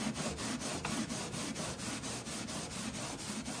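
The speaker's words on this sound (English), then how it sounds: "that's a lot of scrubbing" The inside of a Ninja Foodi oven is scrubbed by hand in quick, rhythmic back-and-forth strokes, a steady rasping scrub repeating for several seconds, close and moderately faint.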